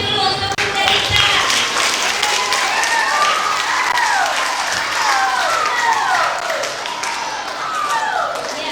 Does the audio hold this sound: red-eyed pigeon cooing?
no